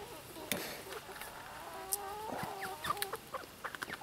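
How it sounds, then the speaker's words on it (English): Chickens cluck and chatter close by as they are let out to free range, a busy overlapping stream of calls with sharp squawks, and a person talks among them. "Big moment for the chickens."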